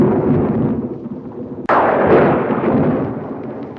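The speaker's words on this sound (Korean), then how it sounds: "그리고 무서운 천둥 소리에" A sudden loud thunderclap cracks out midway through steady heavy rain, then rumbles on and slowly fades back into the downpour.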